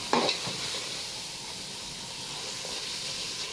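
Carrot halwa mixed with khoya being stirred in a pan, with a steady sizzling hiss and a few soft scraping strokes near the start, close and fairly quiet with no voices.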